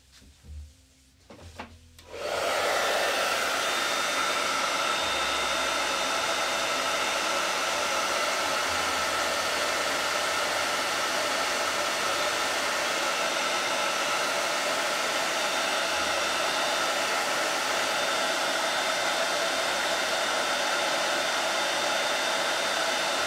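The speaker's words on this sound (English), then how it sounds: "So Sean can dry that real quick." Hair dryer drying chalk paint on a box frame, switched on after a few soft handling clicks and then blowing as a loud, steady, close whoosh for about twenty seconds.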